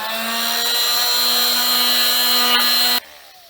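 Wood filler on a door is power-sanded with a steady, loud, droning hum and rasp that runs unbroken for three seconds before cutting off abruptly.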